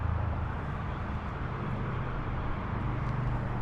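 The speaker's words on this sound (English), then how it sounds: "Probably hear all the cars going by." Steady roadway rumble from cars passing on a nearby highway beside an abandoned, boarded-up Luby's Cafe, a continuous low drone with no distinct single pass-bys and no speech.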